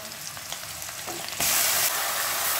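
Ginger, onion, garlic and tomato paste fry and sizzle loudly in a pan while being stirred; the hiss jumps sharply louder partway through and stays strong, close-up and without speech.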